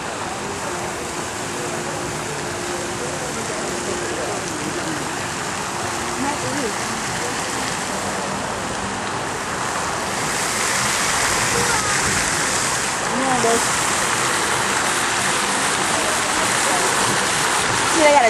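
An indoor waterfall inside a shopping mall gives off a steady, loud rush of falling water that runs the whole time and swells slightly toward the end, with voices in the background.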